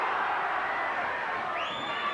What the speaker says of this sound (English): The crowd roar every success of Brodie when he comes in.